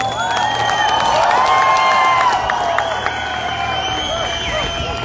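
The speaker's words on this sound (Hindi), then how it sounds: "तालियां और आवाज तो ऐसी आनी चाहिए कि पूरा ये स्टेडियम हिलना चाहिए मेरे दोस्त" A large stadium crowd at a speech event in Pune cheers, shouts and applauds loudly and continuously, with whistles and raised voices rising over steady clapping.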